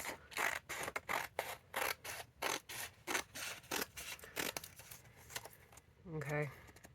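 Scissors snip through paper for a star-and-triangle paper craft in a fast run of sharp, close cuts, with short pauses between the strokes. A voice speaks briefly near the end.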